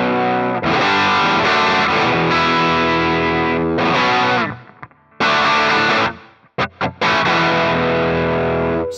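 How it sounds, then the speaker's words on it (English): Distorted electric guitar through a NUX MG-300 Plexi amp preset, loud strummed chords and riffs with brief pauses and a few sharp stabs near the end, no talking. "see, so that for me is a good PLEXI sound."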